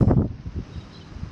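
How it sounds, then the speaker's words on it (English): Wind buffeting a camera microphone out on open flats, a loud low rumbling gust at first that eases into softer, steady blustering. "Just trying to shield the camera from the wind"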